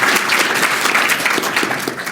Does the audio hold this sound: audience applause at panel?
yes